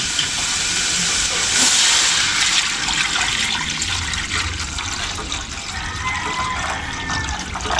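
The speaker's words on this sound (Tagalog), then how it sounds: "Lagyan na tayong tubig." Water is poured into a pan of cooking pancit bihon noodles in a home kitchen. The sizzle and hiss rise sharply as it hits the hot pan, then carry on as a steady, loud bubbling rush.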